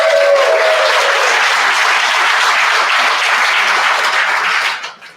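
Loud, dense applause from a convention audience, a sustained wash of clapping from a large crowd that holds steady and then quickly dies away at the end.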